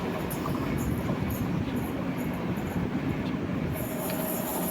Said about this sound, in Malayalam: മൈസൂർ എക്സ്പ്രസ് ആണ് കേട്ടോ.